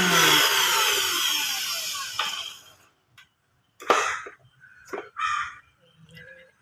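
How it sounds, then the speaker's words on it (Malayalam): A mixer grinder in a Kerala home kitchen runs loudly with a dense whirring roar for about two seconds, then stops, followed by brief clattering and a few quiet speech-like sounds. "മിക്സി അടിക്കുന്ന സൗണ്ട് ഒക്കെ"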